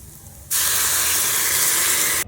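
Milk poured into a hot pan of roasted grated sweet potato for a kheer sets off a sudden loud sizzling hiss that holds steady for nearly two seconds, then cuts off sharply.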